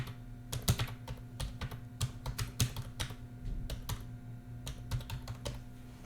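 Close, fairly quiet typing on a computer keyboard, with irregular clusters of crisp key clicks throughout and no voices.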